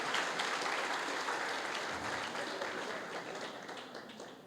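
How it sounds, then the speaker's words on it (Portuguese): Congregation applause during a church sermon, a sustained wash of clapping from a crowd that gradually fades slightly toward the end. "Palmas para o corintiano, obrigado."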